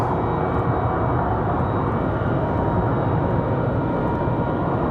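Airplane engine noise at Raleigh-Durham International Airport on a windy day, a steady broad roar holding at the same loudness throughout with no talking.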